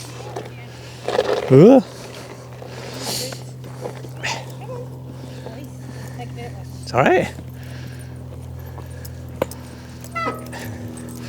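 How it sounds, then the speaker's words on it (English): Small dogs yip and whimper in two short bursts along a path, with faint ambient noise between them and a person speaking briefly. "Hello, small dogs."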